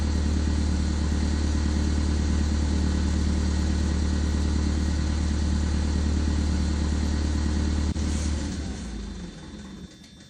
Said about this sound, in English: we're gonna cut the engine